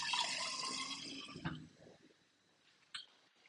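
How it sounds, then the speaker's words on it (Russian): A small jar rinsed with water in a home kitchen, a loud running splash of liquid that fades into faint drips and a short clink near the end. "Прополосну баночку водой,"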